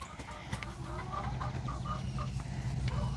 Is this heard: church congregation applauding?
no